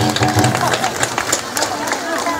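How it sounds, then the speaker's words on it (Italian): At an outdoor festival concert, an audience claps for the festival committee in scattered, lively claps amid crowd chatter, while a voice speaks over them. "lo facciamo un bel applauso a tutto il comitato festa"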